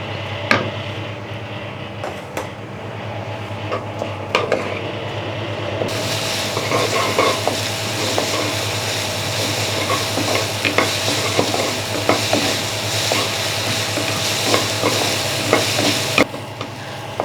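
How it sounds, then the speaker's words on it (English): Onion frying in a pan for a Thai kebab sauce, a dense, steady crackling sizzle that swells louder partway through and runs on for many seconds with scattered pops, close and with no talking. "And then we fry onion."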